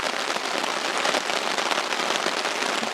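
Steady rain falls during a caribou hunt in Alaska, a dense, even hiss of drops hitting surfaces that holds constant and loud throughout with no gaps.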